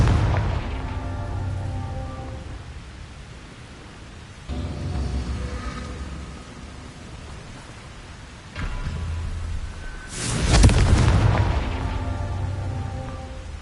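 Fiery Confringo spell blasts in the video game Hogwarts Legacy: a few heavy booms over a low background rumble, the loudest and sharpest one coming near the end.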